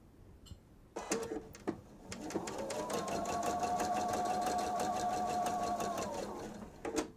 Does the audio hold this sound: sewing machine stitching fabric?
yes